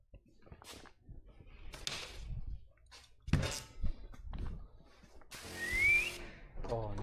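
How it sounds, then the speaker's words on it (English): Short bursts of whistled notes, including a rising whistle, scattered among clatter, thumps and household noises at moderate volume, during window tint installation on a Haval H6. "My wife said no whistling."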